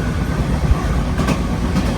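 Tirumala Express passenger train rolling past Hobulavaripalli station, a loud continuous rumble with rhythmic clickety-clack of wheels heard from aboard, no talk.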